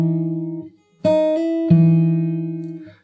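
Guitar pull-off played slowly in time with a bass note, a few clean ringing notes separated by a short pause, close and clear with no talking.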